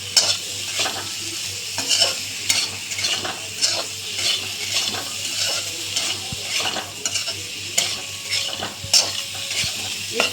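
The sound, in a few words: rohu fish frying and being stirred in a pan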